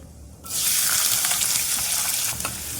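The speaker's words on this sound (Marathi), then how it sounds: "हे पहा मी मध्यम आकाराचा कांदा बारीक चिरून घेतलेला आहे तो घालायचा आहे त्यामध्ये" Finely chopped medium onion dropped into hot oil with cumin seeds for a spiced bitter gourd dish: a loud sizzle bursts in abruptly and holds as a steady, close hiss, with slight stirring crackles and no talk.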